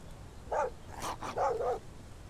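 A dog barks in the PC survival game Mist Survival, with one short bark followed by a quick pair of yelping barks over quiet background game ambience.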